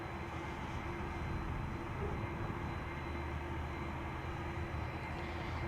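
Heavy jet aircraft at Amsterdam Schiphol Airport give off a continuous, broadband engine roar that holds at a fairly distant level, with no voices heard.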